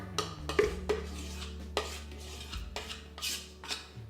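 A utensil smooths a chocolate cheesecake mixture in a kitchen, giving a few close, sharp clinks and light scraping taps against the bowl or tin over a quiet background.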